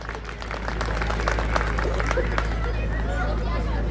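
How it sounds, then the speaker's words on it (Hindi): Hindi-speaking crowd at a public talk claps together for a few seconds, a steady patter of many hands over a low hum and some crowd murmur. "जरा इनके लिए ताली बजाइए।"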